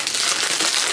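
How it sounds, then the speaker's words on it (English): A snack bag torn open right up close, a loud burst of crinkling, ripping plastic filling the whole short moment. "Probably gonna rip this bag open."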